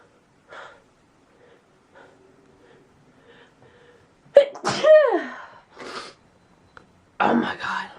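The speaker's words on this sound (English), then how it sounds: "With a sneeze attack to wake me up." A person sneezes through a morning sneezing attack, with soft breaths and sniffles first, then a sharp, loud sneeze with a rising vocal cry, followed by another forceful burst near the end.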